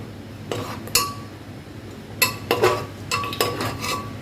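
A spoon stirs mutton biryani with boiled potatoes and cashews in a metal pot, giving sharp clinks and scrapes against the pot in irregular clusters, close and clear with no talking.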